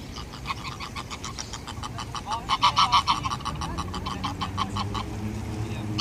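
A flock of geese honks and cackles repeatedly, loud and nearby, with the calls swelling briefly in the middle over outdoor background noise.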